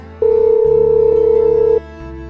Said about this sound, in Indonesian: Aku coba telepon sekali lagi deh.